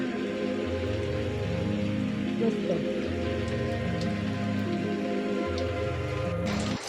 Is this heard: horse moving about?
no